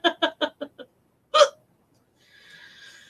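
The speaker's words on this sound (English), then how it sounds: "taking the piss out of my hiccups" A person hiccups five times in a quick, even series, then after a pause gives one louder hiccup, close and clear, with no talk.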